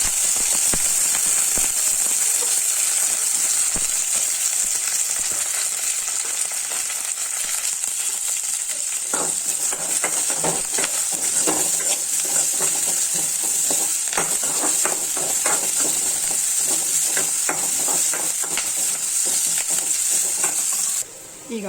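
Onion and curry leaves frying in hot oil with mustard seeds in a pan, a continuous loud sizzle with crackling pops throughout, heard alone and close.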